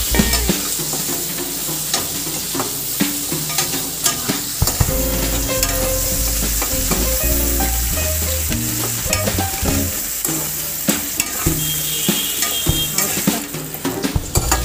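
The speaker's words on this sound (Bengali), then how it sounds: "পেঁয়াজটা ভাজা হয়ে গেছে লাল করে" Chopped onion fries in a hot pan, a loud steady sizzle and crackle with scrapes of a stirring spoon running throughout, no voices.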